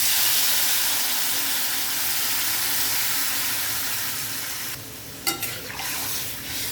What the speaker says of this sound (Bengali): আমি জলটা একটু বেশি দিয়েছি